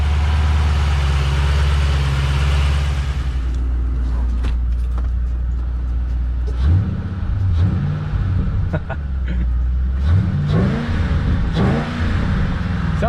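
Ford Mustang engine idling loudly close by, then revved in several rising and falling bursts, with the intake audibly sucking air under the throttle blips.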